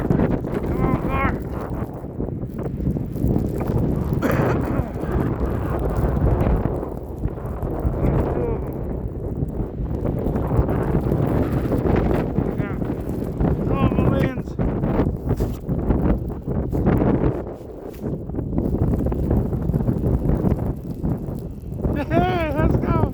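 Strong blizzard wind blasting steadily across the microphone in Omaha, Nebraska, a loud continuous roar with gusty surges, while a person talks over it and traffic passes on a snowy street.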